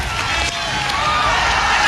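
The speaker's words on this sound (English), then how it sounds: "this has certainly brought the crowd alive now" A cricket stadium crowd at the 1996 Singer Cup match between India and Sri Lanka in Singapore cheers in a broad, sustained roar, loud and continuous throughout, with no clear break or rhythm.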